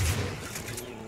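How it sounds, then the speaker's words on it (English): A shotgun blast in the video game Far Cry 5, a short heavy boom with a brief noisy tail. "Oh, motherfucking shotgun."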